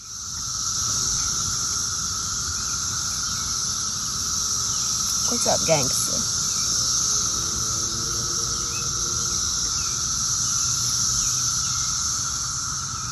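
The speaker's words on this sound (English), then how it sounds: "the dreaded 17-year beasts have returned. It's cicada season" A dense, continuous high drone of periodical 17-year cicadas fills the air throughout, with a brief chirp of birdsong and a short spoken greeting partway through.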